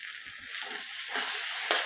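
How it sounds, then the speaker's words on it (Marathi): Ambadi leaves frying with onion chutney in a pan on low gas, giving a soft, steady sizzle with light stirring scrapes, quiet and close, with no voices. "आता फक्त 3 ते 4 मिनिट अशी आपल्याला फ्राय करून घ्यायची"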